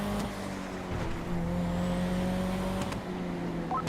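A car engine hums steadily in a GTA roleplay game, with a faint rising whine, a few sharp knocks and shifts in pitch as it drives along.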